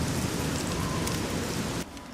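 Steady rain pours in the Capital Wasteland of Fallout 3, a dense, even hiss of falling drops that continues unbroken, then abruptly drops to a quieter level near the end.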